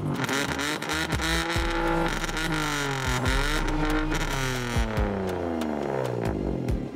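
A car engine in a self-built race car revs hard and repeatedly, its loud throbbing roar rising and falling in pitch through several swelling sweeps over about seven seconds, close by and uninterrupted by talk.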